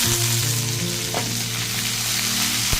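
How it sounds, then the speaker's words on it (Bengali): Chopped onions frying in hot oil with dried red chilli and cumin in a pan, a loud, steady, close sizzle with a constant hum and an occasional faint click or stir. "ফোড়নটা ক্র্যাক হয়ে আসলে তাতে কুচানো পেঁয়াজগুলো দিয়ে দিলাম।"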